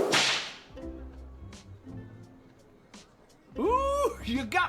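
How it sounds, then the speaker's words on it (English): Whip crack in the video game Lil Guardsman: a sharp burst opens, then short gaps, with a character's voice swooping in near the end. "Ooh, you got me some good with that whip."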